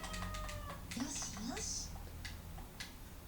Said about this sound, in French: le minou